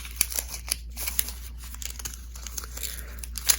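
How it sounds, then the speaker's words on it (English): Thin plastic film is peeled off Apple TV 4K packaging, giving a soft, steady crinkling and crackling with scattered small ticks, quiet and close. "Oh, listen to that peel."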